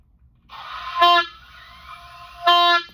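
Two short, reedy oboe notes with a buzzy, uneven tone from too little air and a flat embouchure, separated by a quieter wavering sound.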